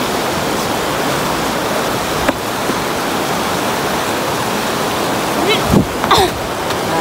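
Melamchi river rushing down its mountain course, a steady, dense roar of flowing water that fills the whole stretch without pause, with a couple of faint brief sounds over it near the end.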